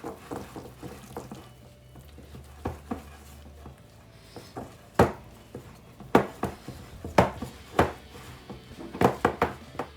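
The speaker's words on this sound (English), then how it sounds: "we're going to incorporate our wet ingredients straight into the dry spill. And then we're going to mix that quickly together until it's lump free" Wooden spoon stirring wet ingredients into dry churro dough, making soft irregular taps and scrapes that grow into a run of sharper knocks against the bowl near the end, close and with no talking.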